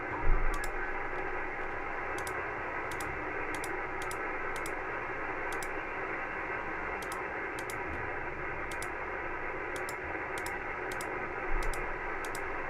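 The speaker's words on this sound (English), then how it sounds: "Just a lot of white noise there." Steady hiss of white noise static from an FT-891 amateur radio receiver tuned to an empty band, with faint regular ticking clicks over the constant rush.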